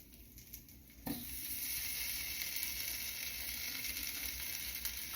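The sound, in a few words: beef browning in a hot pan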